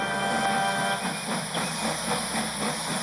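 Thomas the Tank Engine, a steam locomotive, chugs along the line with a steady loud hiss of steam and a rhythmic rolling clatter, close and continuous with no voices.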